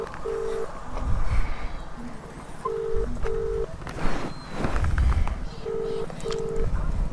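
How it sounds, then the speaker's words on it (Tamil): A phone call being placed: repeated short dialing or ringback tones pulse in pairs over steady room noise, with people talking in bursts around them. "ஃபோன் பண்ணி பார்ப்போம்"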